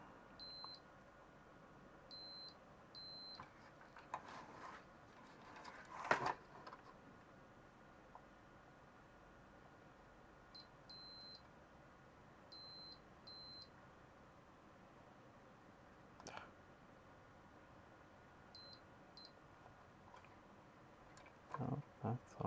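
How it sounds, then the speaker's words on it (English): A continuity tester checks solder joints on a computer board for a 386SX-to-Cyrix 486SLC2 processor swap, giving three clusters of short, high, repeated beeps separated by quiet handling noises and a few clicks. "It's gonna be a lot of beeping, sorry folks."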